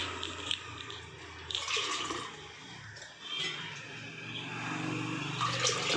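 Water pours and splashes in a steady, hissing stream close by while making Chettinad-style pal kolukattai, rising and falling a little over several seconds.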